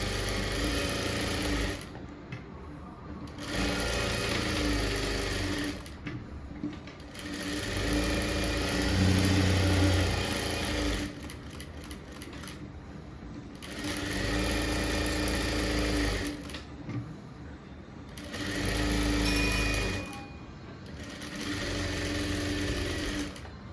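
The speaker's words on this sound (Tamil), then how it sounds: "இப்போ இதில் மேலே தையல் போட்டுடலாம்." A sewing machine stitches the front of a blouse, whirring loudly in long runs of several seconds each, separated by brief pauses as the fabric is adjusted.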